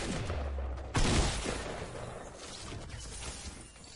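Gunfire in the video game Fortnite, a sharp burst of shots that breaks in about a second in, followed by scattered crackling shots and clatter fading out over a few seconds.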